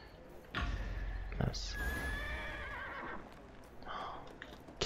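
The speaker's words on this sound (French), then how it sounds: "Et voilà, j'ai un cheval." A horse in the video game Neverwinter gives a loud whinny, layered with clip-clop hoofbeats and game sound effects, as someone talks over it.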